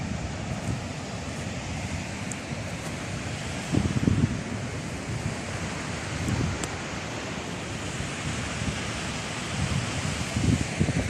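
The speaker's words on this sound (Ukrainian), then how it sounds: "Це все на фоні річки." Water of the Prut river rushing over rapids at a campsite in the Nadvirna area, a steady broadband wash with a few louder surges, close and continuous with no talk.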